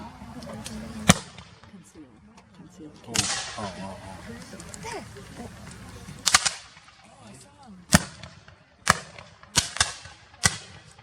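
Rifles fire at a Civil War living history reenactment in Rochester, Minnesota, with sharp, loud cracks spaced irregularly through the clip. Several shots come in a quicker cluster near the end, and people talk in the background between them.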